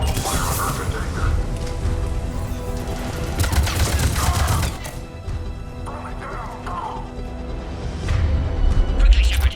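Heavy gunfire in the sci-fi shooter Mass Effect 3 during a firefight at a checkpoint on Sur'Kesh, with dense bursts and impacts under battle chatter and clanking effects.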